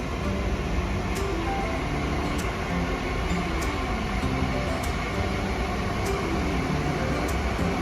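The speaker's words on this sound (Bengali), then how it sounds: "ওই যে ট্রেন চলেছে" A continuous low rumble of a train rolling past, with faint periodic clicks repeating over the steady roar.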